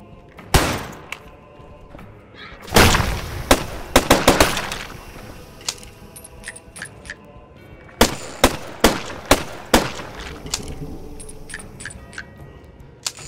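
Sharp explosive blasts and impacts ring out in the video game Falsepine, in loud, separate bursts and clusters with quiet gaps between them.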